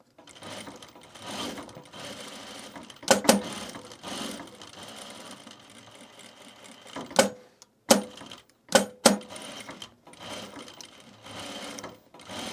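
A sewing machine runs a short, very fine stitch along a narrow seam on a fabric and canvas bag, buzzing in steady bursts with sharp clicks and brief stops between runs, close and moderately loud.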